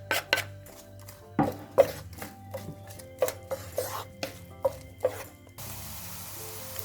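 Onion added to olive oil in a hot pan while cooking zucchini and eggs, with a series of sharp clattering knocks and scrapes, then a steady soft sizzle taking over near the end; no talking.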